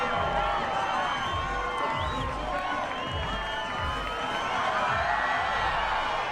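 A large crowd at the 2000 X Games freestyle motocross event cheers and roars loudly and continuously, with whoops and a commentator talking over the din.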